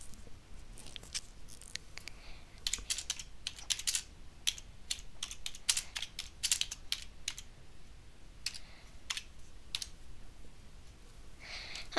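Computer keyboard typing during an Among Us game on the Airship map, quick uneven runs of close, crisp key clicks with short pauses, steady throughout and no voices.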